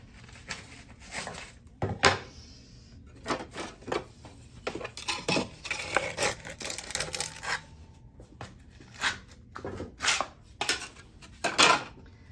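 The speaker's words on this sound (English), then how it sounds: "we'll use pot lifters to lift up and off, just like we always do" Pot lifters clattering as they lift a fired ceramic piece up and off, with a quick series of sharp metallic clinks and taps scattered over several seconds, close and fairly quiet, with no speech.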